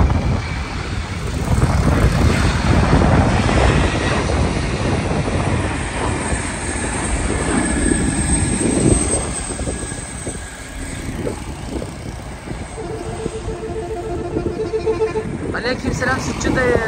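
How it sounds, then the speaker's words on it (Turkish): An airplane takes off in the distance with a broad rushing engine roar, heard outdoors under wind buffeting and someone talking throughout, with a faint train-like rattle near the end. "Şimdi işte uçak kalkıyor."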